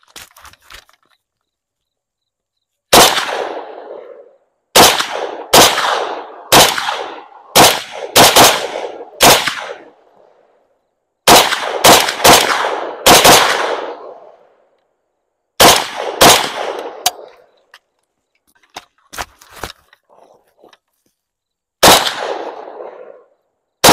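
An M70ab2 rifle fitted with a JMAC muzzle brake and Croatian magazines is test fired outdoors: loud, sharp gunshots in quick clusters and single shots, about eighteen reports over twenty seconds, each with a short echoing tail.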